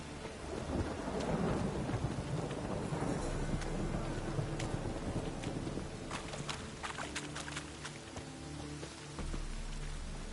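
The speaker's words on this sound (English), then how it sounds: "A storm, damn it." A thunderstorm with rain in the video game The Witcher 3: steady rain hiss under a rolling rumble of thunder, with scattered sharp drips and crackles, and no talking.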